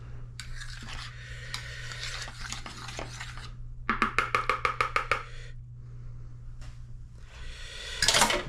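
A spoon scrapes and clatters around a pot of thick biscuit gravy, a steady stirring run with a quick burst of rhythmic knocks against the pot midway, close and fairly quiet over a low steady hum.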